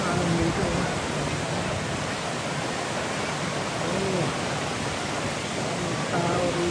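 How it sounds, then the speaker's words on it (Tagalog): Strong ocean waves make a dense, continuous roar that stays steady and loud throughout, with faint voices barely audible beneath the surf. "Ano naman lakas ng alon dito?"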